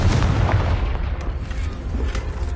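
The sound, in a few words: Bombarda and Confringo spell explosions in Hogwarts Legacy video game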